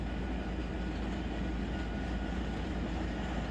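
SD70ACe diesel locomotives haul a loaded coal train at about 11 mph up a slight grade, giving a steady, close, continuous heavy rumble with faint rail clatter and no voices.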